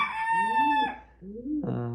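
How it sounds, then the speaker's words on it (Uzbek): A rooster crows once in a loud, close, drawn-out call, followed by a shorter second cry, with nothing else behind it. "Qolgani xo'roz mana"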